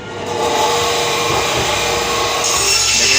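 A powered cutting machine saws through frozen chicken at a market in Dubai, giving a loud, continuous grinding whine that holds steady throughout, with no talking heard.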